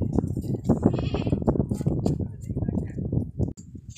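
A big two-toothed sacrificial billy goat bleats again and again, close and loud, the calls running together over a few seconds with faint farm noise around.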